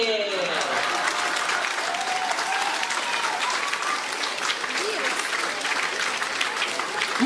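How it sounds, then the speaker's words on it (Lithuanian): Audience applause at a stage show, dense and sustained clapping filling the hall throughout, with voices faintly underneath. "ačiū plojimai!"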